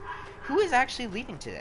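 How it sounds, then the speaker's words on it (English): Several dogs yipping and whimpering in high, rising and falling cries close by, overlapping with a person speaking. "I have a bunch of dogs over, so that's what that sound is."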